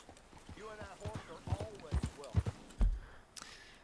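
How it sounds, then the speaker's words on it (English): Horse hooves clip-clop in Red Dead Redemption 2 in an irregular run of soft thuds and low knocks, heard faintly under someone talking. "This right here is the horse we have now"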